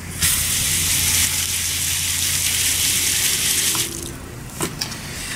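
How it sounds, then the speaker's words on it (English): Duck gizzard contents are rinsed out under a running tap, a close, steady rush of water for about four seconds that then eases into lighter splashes and drips. "You obviously don't want to eat plants and rocks, so I'll rinse those out."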